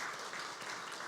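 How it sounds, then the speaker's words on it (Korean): A church congregation applauds during a worship service, a steady, even patter of many hands that sounds faint and somewhat distant, with no talk over it. "우리 하나님께 영광의 박수 한번 드리겠습니다"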